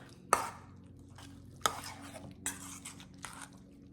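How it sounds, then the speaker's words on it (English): Hands work peppers and onions into a meatloaf mix in a bowl, soft squelching punctuated by four sharp clicks or taps, close and fairly quiet over a low background hum. "I've got my peppers and onions in there, and I'm mixing all this up"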